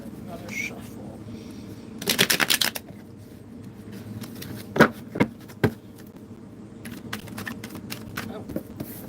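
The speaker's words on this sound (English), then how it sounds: "Let me give it another shuffle." A short burst of tarot card shuffling riffles through the middle, followed by a few sharp taps, with quiet background noise and faint voices around it.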